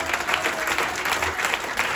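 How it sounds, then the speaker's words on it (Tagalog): A Filipino congregation at a UPC church in Muntinlupa breaks into strong, steady applause for God, a dense wash of clapping filling the hall without pause. "Isa pa pong malakas sa palakpak sa Diyos"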